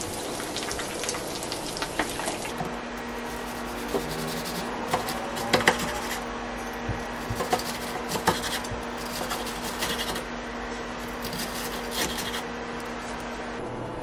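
Frozen breaded pork cutlets sizzle steadily in a pan over medium heat, a close, dense crackle with scattered pops and spits throughout and a faint steady hum underneath.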